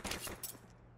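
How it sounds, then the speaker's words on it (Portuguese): Rapid automatic gunfire in CS:GO on the Mirage map, a dense burst of shots with a second volley midway, loud and close in the game mix. "O Azaf, o jogo é de tiro."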